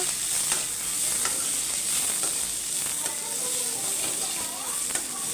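Peanuts and cumin seeds roast in a pan over low heat, giving a steady close sizzle with light scraping and rattling from stirring, without speech.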